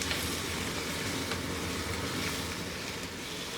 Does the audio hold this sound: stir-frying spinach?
yes